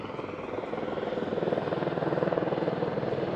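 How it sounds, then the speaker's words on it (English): A helicopter coming in to land near a yacht, its rotor thumping in a rapid, steady chop, growing slightly louder as it nears, with a low engine drone underneath. "Helicopter coming into land."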